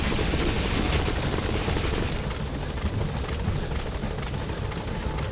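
A helicopter arrives in the video game Metal Gear Solid V, a dense roaring rotor and engine wash that fills the whole clip at steady loudness, with no talk over it.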